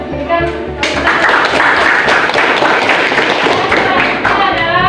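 A classroom of students claps together for a group, a dense burst of hand claps that runs steadily for several seconds.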